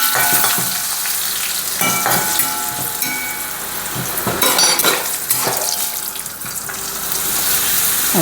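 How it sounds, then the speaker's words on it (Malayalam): Loud, continuous sizzling and crackling of papadam frying in hot coconut oil, with occasional sharper pops and scrapes close by. "വെളിച്ചെണ്ണ ചൂടായിട്ടുണ്ട് പപ്പടം ഇടാം"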